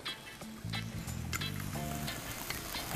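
A pan of mushrooms and shallots sizzles and hisses as warmed vodka flames up over the heat, a steady close crackle with clinks and brief scraping, no talking.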